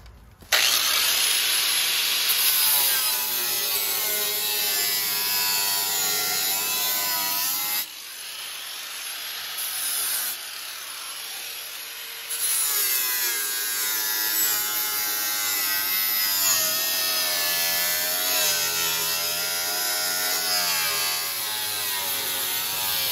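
A saw trims a part on a lowered Toyota van project, buzzing and rasping steadily nearby for over twenty seconds with a couple of brief pauses in the cut.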